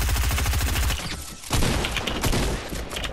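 Rapid gunfire bursts from a Fortnite match, loud and dense bursts of shots with a brief lull in the middle before firing resumes.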